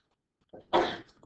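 A single sharp sneeze, short and fairly close, preceded by a brief intake of breath in an otherwise quiet algebra classroom.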